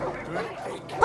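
Puppies yipping and barking in the video game Far Cry 5, a few short, high yelps and whimpers close by, mixed with faint talk.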